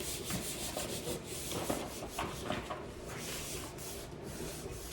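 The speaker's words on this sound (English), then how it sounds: "Now make sure you rub all over," Paper being rubbed by hand over an inked marker print, a steady dry scratchy rubbing that repeats in quick strokes throughout, close and moderately quiet with no talking.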